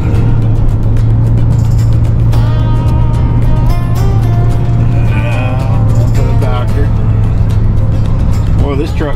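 Steady low engine drone and road rumble from inside a new pickup truck while driving, loud and constant throughout, with a voice and an adult talking over it.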